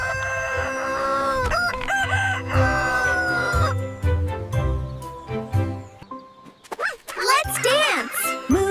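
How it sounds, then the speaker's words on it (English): Cartoon rooster crows on a farm, with drawn-out, wavering cock-a-doodle-doo calls near the end, following bright cartoon music and clucking sounds. "Cock-a-doodle-doo."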